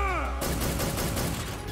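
A burst of rapid gunfire in Metal Gear Solid 3 follows a brief tonal game sound, then continues as dense, steady shots at moderate loudness for over a second.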